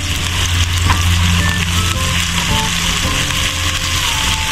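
Garlic, ginger and onion sautéing in a smoky pan, a loud, dense, continuous sizzle close up with a few stirring scrapes, no talking.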